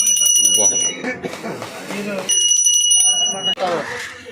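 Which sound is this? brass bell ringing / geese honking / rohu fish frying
brass bell ringing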